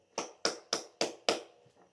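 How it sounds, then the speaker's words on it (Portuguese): Clapping during a church service, five crisp evenly spaced claps close by, then a faint softer pair trailing off. "Palmas para Cristo."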